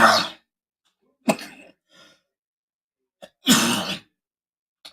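A few harsh, breathy coughs separated by silence, close and loud, with a couple of smaller throaty sounds in between.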